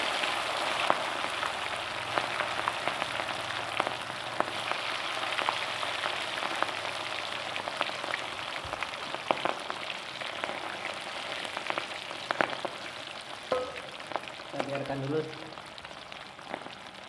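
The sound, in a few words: frying ingredients for soto padang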